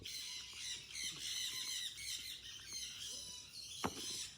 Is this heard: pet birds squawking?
yes